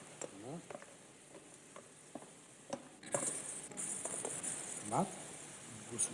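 Tomato and crushed garlic clove stirred gently in a hot frying pan for a Niçoise stockfish dish, with a steady sizzle and soft scraping strokes, louder in the second half, while someone talks over it.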